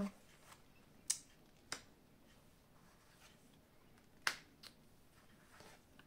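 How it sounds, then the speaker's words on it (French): Cards being spread out and covered on a table in a quiet room, heard as a few faint, sparse slaps and soft sliding taps. "je vais étaler les cartes et puis les recouvrir"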